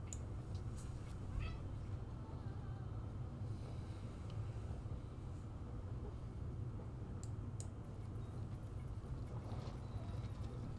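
Horse sounds in Civilization V, soft hoof clops and faint snorting, quiet under a steady low hum of game music and ambience.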